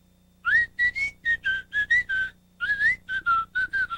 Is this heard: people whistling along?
yes